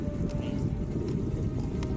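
Strong wind buffets an exposed stealth campsite on a cold, rainy night near a city, giving a loud, continuous low rumble of gusts against the microphone.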